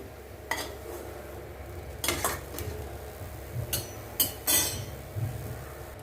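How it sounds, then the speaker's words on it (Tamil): Green chillies, finely chopped, being dry-roasted in a pan with no oil: intermittent scraping and clinking of a utensil against the pan, a few distinct stirring strokes over a low steady background hum. "எண்ணெய் விடாமல் தான் வறுக்கணும் இது வறுப்படட்டும் பார்க்கலாம்"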